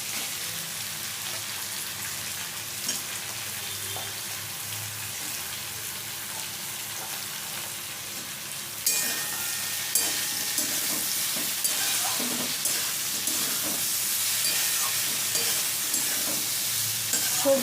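Eggplant pieces and bottle gourd greens fry in a pan for a poppy-seed curry, a steady sizzle that jumps louder midway as the eggplant goes in, with scraping stir strokes and no talking.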